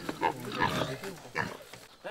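A pig in a Vanuatu village gives several short grunting squeals and snorts at close range, irregular bursts separated by brief pauses, with faint background ambience.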